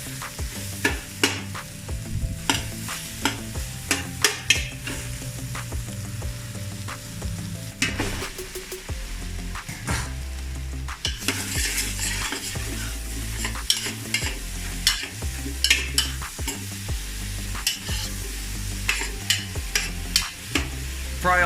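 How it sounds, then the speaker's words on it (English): Mushrooms, carrots and tofu stir-fry together in an oiled pan, a low sizzle beneath repeated clattering utensil strikes and scrapes against the pan, irregular and close, alongside a steady low hum, with no talking. "Fry all the ingredients together."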